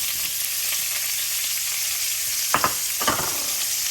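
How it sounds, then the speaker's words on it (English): Chopped onions sizzle in hot olive oil in a pan on a steady, bright crackle, with a couple of louder stirring scrapes near the end and no talking. "You're going to take your onions, throw them in."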